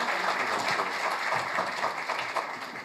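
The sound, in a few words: audience applauding at an award ceremony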